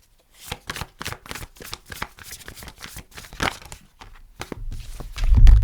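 Tarot cards shuffled and handled, a dense run of crisp riffling snaps and slides close by, ending in a louder low rumble as the deck is squared and cards are drawn, with no talking.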